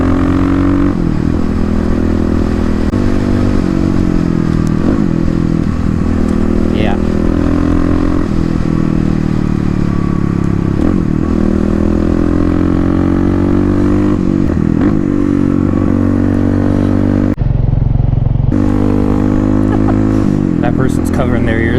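A 2018 Kawasaki KLX351 fitted with a Dynojet Power Commander sits close by, its engine running loud and revving repeatedly with clattery mechanical noise. People talk over it.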